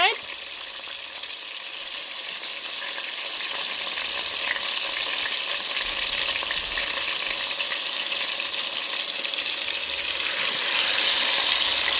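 Oxtail frying in a pot, a loud, continuous sizzle and crackle that builds slightly over several seconds. It is close up, with no talking.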